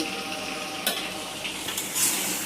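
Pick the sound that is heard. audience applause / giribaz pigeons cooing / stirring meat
stirring meat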